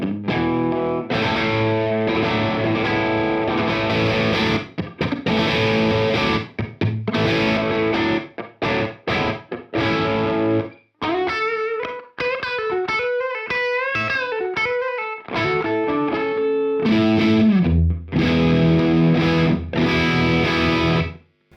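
An electric guitar played through a Friedman Buxom Boost set for a boxy Vox-style clean tone rings out in chords and single-note runs with a slightly driven edge, loud and alone.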